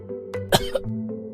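A single sharp, loud cough bursts out once, demonstrating proper cough etiquette, set against a low steady hum and a few faint softer throat sounds.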